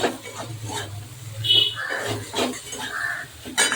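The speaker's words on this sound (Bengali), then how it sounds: "এবার দিয়ে দেবো ফুলকপিটা, ফুলকপিটা 2 মিনিট নাড়াচাড়া করে নেব।" Cauliflower stir-fried in hot oil in a pan, a low sizzle with a few soft scrapes and stirring clatters coming and going, fairly close, with faint background noise.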